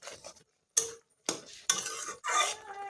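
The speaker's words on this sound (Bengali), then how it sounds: "খাবার সোডাটা দিয়েছি, তার জন্য এটাকে ভালো করে মিশিয়ে নেব নেড়ে চেড়ে।" Drumstick leaves and dried fish being stirred in a pan, heard as a series of metallic spoon-against-pan scrapes and clinks in separate bursts with short quiet gaps between, fairly close and without talk.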